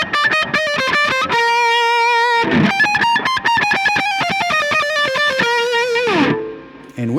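Electric guitar with a tone from a Line 6 Helix, no delay, playing a fast run of bright, saturated, singing notes with sustained harmonics, loud and alone, ending in a quick slide down.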